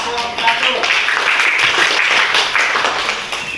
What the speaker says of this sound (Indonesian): Silakan berikan aplaus untuk kelompok 1.